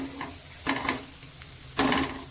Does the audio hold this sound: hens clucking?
no